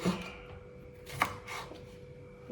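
A knife taps through brinjal on a cutting board in a few sparse, uneven chops against a quiet room hum.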